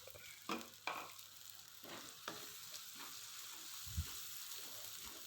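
A turmeric spice mixture for kupat glabet, a Central Javanese dish, is stirred in a pan, with a soft sizzle under scattered scrapes and clinks of the utensil, a thud near the end, quiet and close with no speech.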